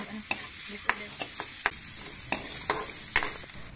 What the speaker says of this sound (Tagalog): Sunod, nagisa lang kami yan ng bawang. Nagisa rin kami ng luya.